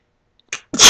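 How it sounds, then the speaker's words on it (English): One loud, explosive human sneeze bursts out close up after a short inhale, alone in otherwise near silence. "Inherited that loud, obnoxious sneeze from my mother."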